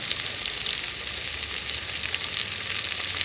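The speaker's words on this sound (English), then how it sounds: "Now I'm going to cook this onion until golden brown in color." Roughly sliced onions fry in a pan at home, giving a close, steady sizzle and crackle throughout with faint stirring and no speech.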